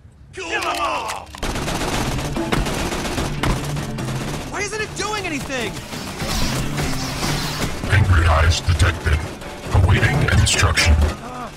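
Video game gunfire from Tales from the Borderlands, with dense, continuous bursts of shots and crashes over game sound and music. Voices are also present in the mix.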